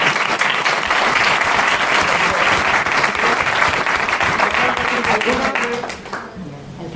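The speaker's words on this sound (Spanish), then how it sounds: "merece sin duda un aplauso completo." An audience at a talk on defending the right to life breaks into full applause, steady dense clapping that holds strong and then thins out near the end.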